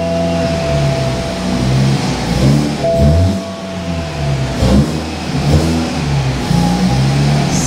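A BMW 220i M Sport engine revs loudly up close in several throaty surges, falling back between bursts, with a booster connected.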